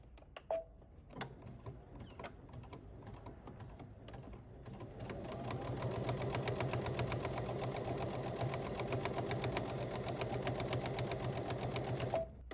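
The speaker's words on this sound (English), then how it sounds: "I'm just gonna do a regular straight stitch with the 1/4 inch seam allowance" A home sewing machine runs a regular straight stitch with a quarter-inch seam allowance, a few clicks and starts giving way to a steady, rapid mechanical whir that builds and holds close by.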